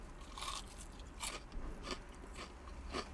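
Someone bites into the crunchy coating of a KFC Zinger Mozzarella burger, with several close, distinct crunches spaced about half a second apart over a quiet background.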